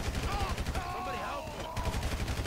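Rapid gunfire in GTA 5 story mode, the shots shattering glass: a loud, dense burst of repeated cracks sustained through the clip, with voices in the game mix.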